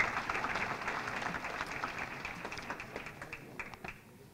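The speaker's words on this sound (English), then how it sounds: "How about a round of applause to our women leadership" A fundraising dinner audience applauds with dense, moderate clapping that thins out and tapers off over a few seconds.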